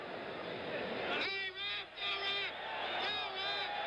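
A boxing arena crowd from a 1977 fight featuring Foreman roars and swells in waves beneath a commentator's steady talk.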